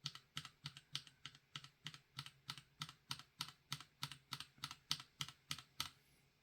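Stock Gateron G Pro 3.0 Brown tactile mechanical switches are typed on in an even, quick rhythm of about twenty crisp keystrokes, close and fairly quiet, with nothing else heard.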